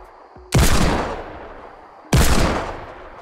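Two loud, sharp gunshots in Fortnite about a second and a half apart, each followed by a fading rumble, with no talking.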